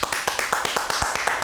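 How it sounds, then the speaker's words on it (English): Audience applause on the set of a talk show, heard as a brief burst of distinct, fairly close claps in an uneven rhythm, moderately loud with no talk over it. "Make a round of applause."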